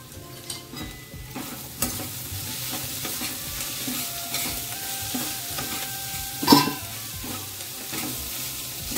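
Onion paste sautéing in oil with a steady hissing sizzle, joined by occasional utensil scrapes and clinks from stirring, close and fairly loud throughout.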